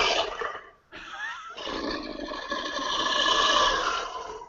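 A red dragon roar sound effect, built from a voice gargling phlegm in the throat, rumbles close and loud, with a gravelly rasp that swells steadily over several seconds after a brief opening growl.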